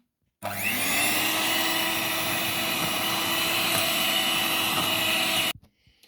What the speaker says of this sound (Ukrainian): І потрібно його збити все це міксером